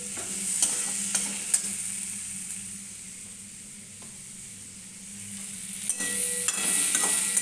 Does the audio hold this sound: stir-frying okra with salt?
yes